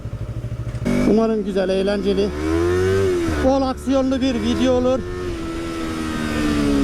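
A Yamaha YZF R25 sport motorcycle engine revs and drones steadily while riding, pitch rising and falling with the throttle, as someone talks over it.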